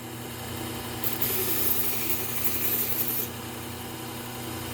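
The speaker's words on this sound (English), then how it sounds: "I'm going to get rid of that burr. We're going to do that very lightly on the back of the blade." A mower blade is lightly dressed on the back edge against a running belt sharpener to remove the burr, giving a steady close grinding rasp over a constant motor hum for about two seconds.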